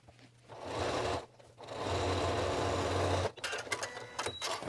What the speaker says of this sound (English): let's sew it